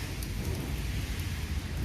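Heavy rain pours down during a thunderstorm outdoors, a constant loud hiss and patter with a deep low rumble beneath, steady from start to finish.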